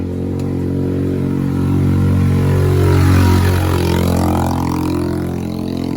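A motorcycle labors up a very steep mountain road on a 30–40% gradient, its engine droning loud and close with a rising strained rev in the middle, then easing back.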